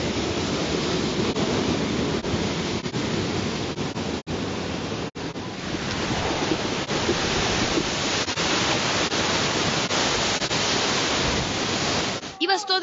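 Strong waves and heavy surf break against a fishing pier, with a loud, continuous roar of rushing water and wind buffeting the microphone. The roar dips briefly a couple of times and ends with a short burst of other noise.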